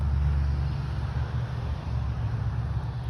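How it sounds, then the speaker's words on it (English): Steady roar of car traffic on a busy street, a continuous low rumble with no gaps, heard from indoors at a moderate level. "I also live on a busy street, so I apologize for all the cars that you're hearing in the background"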